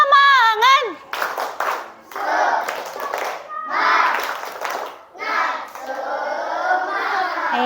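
Children in a classroom perform a rhythmic clapping chant, bursts of group clapping and shouting in quick repeated phrases after a teacher's sung cue.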